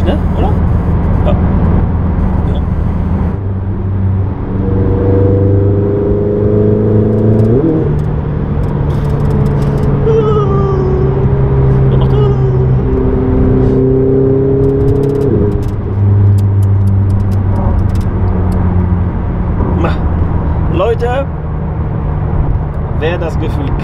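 A Ferrari 488 GTB engine pulls hard on a test drive, rising through the revs with distinct gear shifts and a loud, sustained roar from inside the car while people talk over it.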